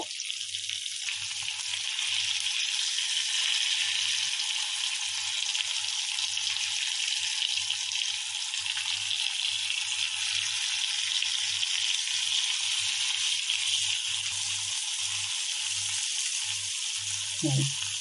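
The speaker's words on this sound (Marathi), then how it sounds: "आता आपण फ्राय करून घेऊ तर बघा मी एक साईड झाले बोंबील तर मी हे पलटी मारून घेते" Bombil (Bombay duck) fish shallow-fry in a pan with a continuous, close, hissing sizzle that stays even throughout, over a faint intermittent low hum, ending with a short knock.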